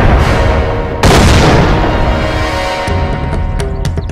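A loud, heavy bomb blast from a Bhojpuri action film booms out at full volume, rumbling on for seconds, with a second burst and scattered crackling debris near the end and no talking.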